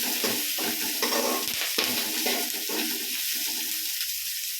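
Onions and curry leaves sizzle in hot oil while being stirred, a steady crackling fry with scraping stirs throughout, close and continuous.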